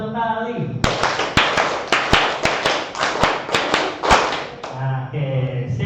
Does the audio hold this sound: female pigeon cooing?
no